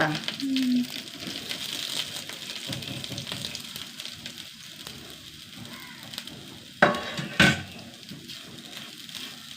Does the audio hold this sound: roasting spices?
yes